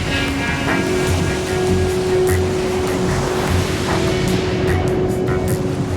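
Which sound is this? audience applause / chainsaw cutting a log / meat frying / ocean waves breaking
ocean waves breaking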